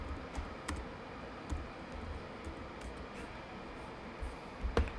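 Light typing on a computer keyboard, scattered soft key taps and a few sharper clicks over a steady noisy background, fairly faint and irregular with no speech.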